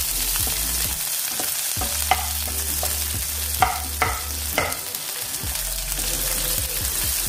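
Chopped medium onion frying over a low flame in a pan, a soft continuous sizzle with several sharp clinks and scrapes of stirring, close up, no voices.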